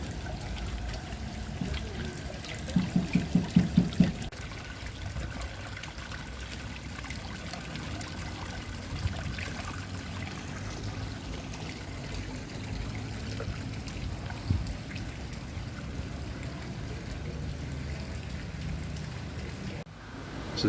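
Garden fountains at Chiang Mai railway station in Thailand, a steady moderate trickle and splash of running water throughout, with a short burst of knocks early on and no talking.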